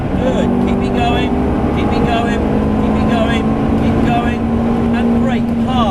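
A Ferrari on a driving experience at Silverstone, accelerating at full throttle through the gears with a loud, steady engine drone that rises in pitch and fills the whole stretch, with a voice talking over it.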